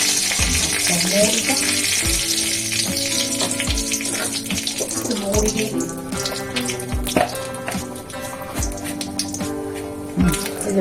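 Two dried red chillies sizzle in hot oil as a steady, loud frying hiss that carries throughout, with tonal music faintly beneath.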